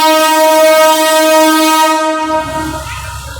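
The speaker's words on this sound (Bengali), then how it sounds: "চিলাহাটি এক্সপ্রেস সেই ট্রেনটি এই মুহূর্তে যে হুইসেলের মাধ্যমে জানিয়ে দিচ্ছে" The Chilahati Express sounds a long, loud, steady horn at Kamalapur railway station, which cuts off into the low rumble of the train as it pulls away from the platform.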